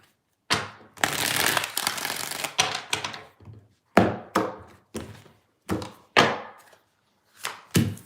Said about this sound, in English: Let's get 2 shuffles here.